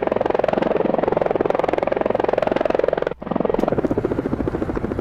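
A blocky Apache attack helicopter in the video game Last Toon Standing makes a steady, loud rotor buzz with rapid rhythmic chopping, broken by a brief dropout near the end before resuming.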